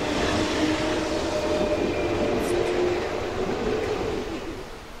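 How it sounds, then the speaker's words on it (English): Train ride in the video game Yokai Watch 2: a steady, loud rolling rumble of railcars carries on throughout, easing off slightly near the end, with no talking. "I kind of like the fact that you get ride a train."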